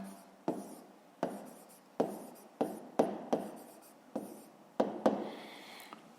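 Pen or pencil strokes on paper as numbers are written for a fifth-grade math exercise: a series of close, quiet scratching strokes, each with a sharp start, arriving in an uneven rhythm with no voice over them.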